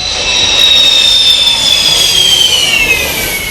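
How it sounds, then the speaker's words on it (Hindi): A loud, sustained jet roar from an Air Force fighter landing on an emergency highway airstrip in Moran, Assam, its high whine sliding slowly downward as the aircraft passes close by. "वायुसेना ने इस हाईवे पर फाइटर जेट भी उतारे"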